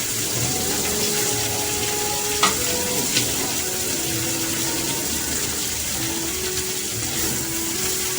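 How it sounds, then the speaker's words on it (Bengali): Papaya stir-fried in a pan with tempering spices, a steady close sizzle with occasional scraping stirs, no talk. "দিয়ে একটু ভালোভাবে নেড়ে ভেজে নেব"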